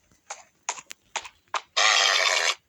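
A Minecraft horse gives a series of short snorts and huffs, four quick bursts followed by a longer loud whinny, close and alone without talk.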